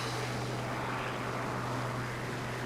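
A propeller plane engine droning steadily while climbing in the War Thunder video game, a Ki-61-I Hei Hien fighter, with a loud, even hum that continues unbroken.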